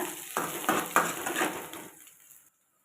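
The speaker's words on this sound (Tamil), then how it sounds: "சின்ன வெங்காயம் சேர்த்துக்கலாம் சேர்த்து நல்லா புரட்டி விடுங்க" Shallots and garlic stir-fried in a hot pan, a steady sizzle broken by several scraping stirs, close and fairly loud, then fading out near the end.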